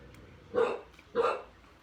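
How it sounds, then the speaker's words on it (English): Dog barking at a person passing by: two short, moderately loud barks about half a second apart, fairly close, with no talk over them. "Do you want to check on your dog? She's barking at a person moving by."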